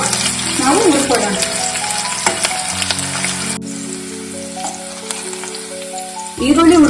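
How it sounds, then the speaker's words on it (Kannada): Long-sliced onions fry over a medium flame, a soft sizzle running beneath sustained musical tones, with a brief voice near the start and more talk at the end. "ಈರುಳ್ಳಿ ಬ್ರೌನ್ ಆಗೋವರೆಗೂ ಸ್ವಲ್ಪ ನಾವು ಹುರ್ಕೊಳ್ಳೋಣ."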